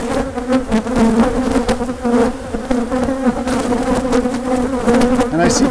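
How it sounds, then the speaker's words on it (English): A dense, steady drone of many honey bees buzzing loudly and close around an open hive as frames are lifted and moved, continuous and unbroken. "So I have to be very careful when I'm moving these bees that I don't drop my queen."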